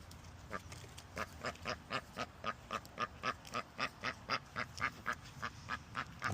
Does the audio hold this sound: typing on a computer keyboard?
no